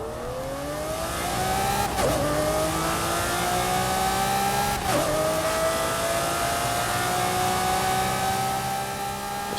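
A car engine in a racing video game revs and accelerates hard, climbing through gear shifts with two quick changes, loud and continuous without talk.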